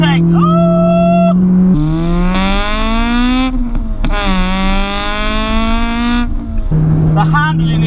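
Honda Civic EK9 Type R engine, a modified Phoenix Yellow car, revs hard through the gears on a twisty drive, climbing in pitch with sharp gear-change drops and a rising high-rpm VTEC wail, loud and close, with a person talking over it.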